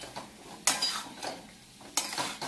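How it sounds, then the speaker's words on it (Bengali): Spice paste fries lightly in a home kitchen pan, a soft sizzle under repeated utensil scrapes and stirring, with two sharper scraping strokes standing out, no voices. "এবার মশলা দিয়ে দিলাম তো, এবার হালকা ভাজা হয়ে যাবে"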